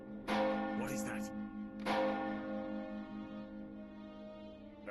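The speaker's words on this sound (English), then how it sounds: "The town bells!" Town bells ring in the Lord of the Rings Online video game: two loud, resonant bell strikes about a second and a half apart, each left to ring and hum away, with a faint voice underneath.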